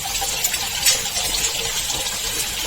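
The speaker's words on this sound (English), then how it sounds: "We put the noodles under running water." Tap water runs in a continuous, even hiss as it rinses cooked YiBin burning noodles to cool them. It is close and alone, with no talk.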